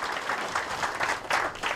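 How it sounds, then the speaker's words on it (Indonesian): A church congregation in a village in Amnuban Tengah, East Nusa Tenggara, clapping during a Christian sermon, a short dense burst of applause lasting under two seconds. "Tepuk tangan dulu untuk Tuhan Yesus."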